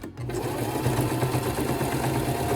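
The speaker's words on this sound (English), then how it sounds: "we're gonna sew forward, back stitch," Sewing machine stitching a strap on a baby changing pad: a steady, close mechanical whir with a rapid needle pulse that runs continuously after a brief start.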